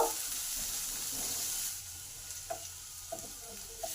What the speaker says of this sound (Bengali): পেঁয়াজটাকে একটু ভালো করে লাল লাল করে ভেজে নেব